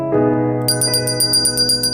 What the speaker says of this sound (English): Daddy, my Christmas bell.